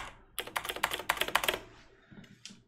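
Computer keyboard keys clatter in a quick burst of presses during play of the game Death Trials, close and crisp, fading to a couple of isolated taps.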